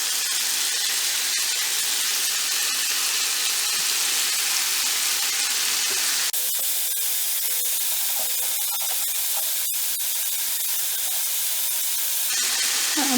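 Thawed scallops sizzle in a frying pan with a loud, steady hiss and spatter, easing slightly midway and then swelling again toward the end, close up with no voices.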